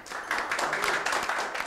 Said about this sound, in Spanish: que se sienta el aplauso